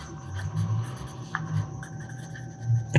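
A marker or chalk scratches across a classroom board in short strokes during a math lesson, soft rubbing sounds coming in bursts under faint room noise.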